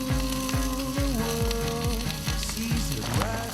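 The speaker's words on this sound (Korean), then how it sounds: "지글지글 식을 줄 모르는 무쇠 솥뚜껑" Spicy braised chicken sizzles on a cast-iron pot lid over burning oak firewood. A steady crackling fry runs beneath loud rhythmic background music.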